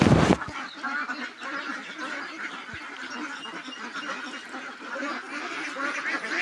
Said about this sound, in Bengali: আমার হাঁসগুলো ধান দিলাম খাবার জন্য